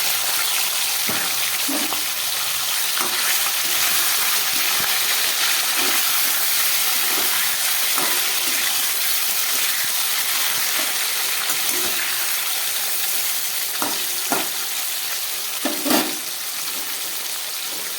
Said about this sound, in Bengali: এবারে আমি এই কিছুটা কেটে রাখা চিকেন এর মধ্যে ফ্রাই করে নেব।